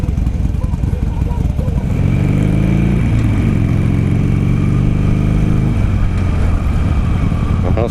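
A Harley-Davidson Sportster motorcycle engine runs steadily up close, its pitch rising and shifting as it revs partway through, with people talking faintly over it.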